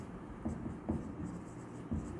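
A pen writes a formula by hand on paper, making faint, close scratching strokes with a few slightly louder taps over a quiet background.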